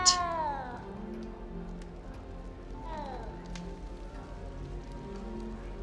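A cat meows inside the Hogwarts Legacy game, first a clear rising-falling meow up close, then a fainter one a few seconds later, over a soft rain-like game ambience.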